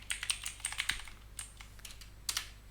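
Short bursts of keystrokes on a computer keyboard as a terminal command is entered, a quick cluster of clicks, a pause, then a few more taps, close and clear.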